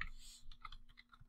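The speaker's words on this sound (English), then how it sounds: "So what you can do is you just type in," A few soft keystrokes on a computer keyboard typing a search, faint and close, a short irregular run of clicks in a quiet room.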